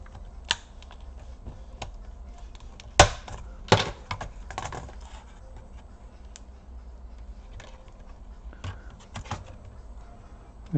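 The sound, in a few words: lifting out an HP EliteBook 2530p laptop keyboard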